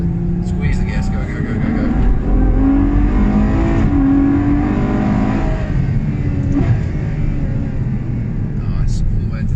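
A 2018 Ferrari 488 Challenge race car accelerating hard on a New Zealand track, its engine roaring and rising in pitch under continuous loud talk from a person in the car.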